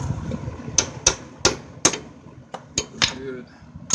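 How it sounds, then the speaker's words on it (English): Sharp metallic hammer blows on a tie rod of a 1994 Integra ring out, about eight strikes at an uneven pace, close and clear over a quiet background. "Take the hammer to it."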